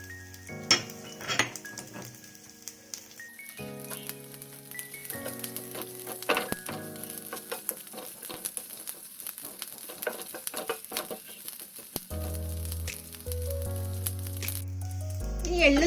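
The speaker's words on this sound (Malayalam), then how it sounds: "നെയ്യ് ചൂടായിട്ടുണ്ട്. തേങ്ങാക്കൊത്ത് ചേർക്കാം." Coconut pieces fry in hot ghee in a pan while unniyappam is being prepared, a soft sizzle beneath clinks of a metal spoon stirring against the pan, with background music playing throughout.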